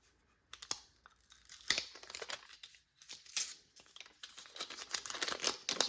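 Paper wrapping peeled and torn off a Garmin Xero C1 Pro chronograph box, heard as close, crisp crinkling and ripping in irregular bursts, with pauses and quiet scuffs between tugs.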